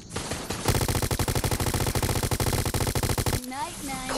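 Sustained automatic gunfire in the video game Resident Evil Resistance, a fast steady stream of loud close shots lasting nearly three seconds, then trailing off into ringing noise.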